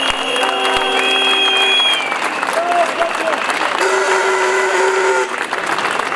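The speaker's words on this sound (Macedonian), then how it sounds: "Еден аплауз за тие пратеници." A crowd at a political rally applauds loudly and steadily, a thick wash of clapping with scattered whistles and cheers rising over it, close and sustained throughout.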